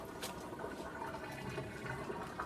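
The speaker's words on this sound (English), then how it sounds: "Rice is not clean. You have to wash it." Rice being washed in water, a continuous swishing and sloshing of grains and liquid close by, steady and moderately quiet throughout.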